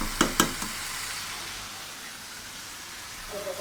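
Spices sauté in hot oil for a fish and potato curry, giving a continuous hissing sizzle opened by two sharp utensil clinks against the pan.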